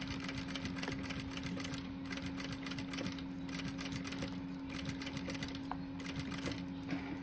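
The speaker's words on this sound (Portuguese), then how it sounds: "quando a gente vai começar a costurar em cima do plástico cristal" A sewing machine stitches steadily over clear plastic, a fast, even mechanical whir with rapid needle ticks, close and continuous with no talking.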